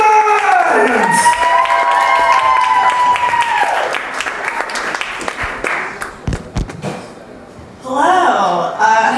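Comedy club crowd at the Ottobar clapping and cheering for a comedian taking the stage, a loud dense burst that thins into scattered claps before a second swell of cheering near the end.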